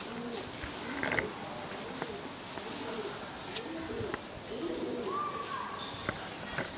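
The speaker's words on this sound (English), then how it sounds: "There's just pigeons everywhere right now looking to poop on my head." Pigeons coo repeatedly in a wide open former market square, their soft throaty calls coming in a loose rhythm over a steady outdoor background hiss.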